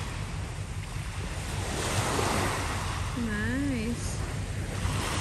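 Surf rolling onto Mambo and Caracasbaai beaches in Curaçao as a steady broadband wash with wind buffeting the microphone, and a short spoken word near the end.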